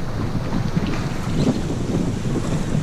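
Wind rushes over a yacht sailed solo from the UK to Belgium in about 20 knots of apparent wind: a continuous, fairly loud gusting buffet with no voices.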